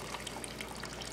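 Fast stream of water jetting from a tube inside a dart frog vivarium, a faint, steady hiss and trickle that runs without a break and sounds close.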